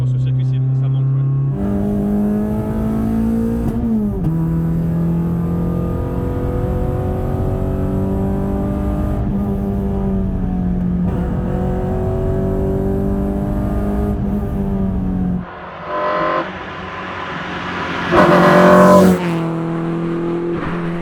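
Renault Clio 2 RS2 engine revving hard while driving, rising and falling through gear changes with a brief lift-off and a sharp high rev burst near the end, heard from inside the car.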